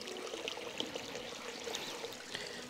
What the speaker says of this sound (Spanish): estamos en el desierto y miren todo el agua que sale aquí